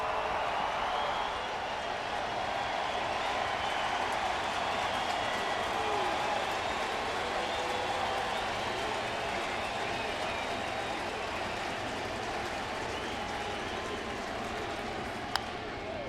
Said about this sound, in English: Crowd very excited here in the Cardinals' 6th inning, hoping for more.